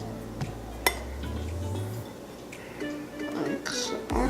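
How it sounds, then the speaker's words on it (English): A spoon scrapes and clinks against a dish while scooping taco meat onto a tortilla in a home kitchen, with a sharp clink early and softer scraping and tapping after, close and moderately quiet. "you're going to take a spoon like this and scoop some meat up, put it on the tortilla"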